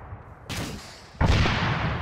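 Gunfire in the Arma 3 video game during a squad assault on a gas station, two heavy booming shots about a second apart, each with a long rumbling tail, loud and close.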